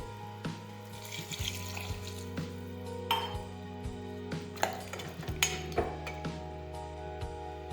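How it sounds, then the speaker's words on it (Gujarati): Water goes into a pressure cooker holding brinjal, potato, tomato and green pea curry, with a short splash among light metal clinks and taps, close and fairly quiet, no one speaking. "હવે આપણે પાણી નાખીશું"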